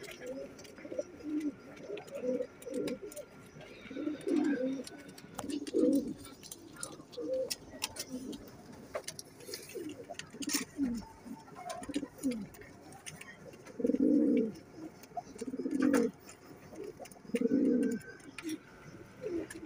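A pair of golden Rampuri pigeons coo in repeated low, throaty bursts, each phrase rolling and swelling close by, spaced a second or two apart over the whole stretch with faint background noise.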